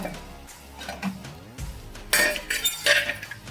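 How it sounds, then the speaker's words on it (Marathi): A lid is lifted off a pot of sweet semolina sheera (rava sheera) with a couple of close metallic clinks and clatters, the first near the middle and another shortly after, over a quiet kitchen background. "आता आपण झाकण उघडून बघूया"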